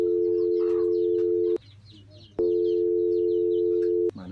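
A telephone tone sounds while a call is placed: two long, steady electronic tones separated by a short pause, loud and close, with faint chirps in the background.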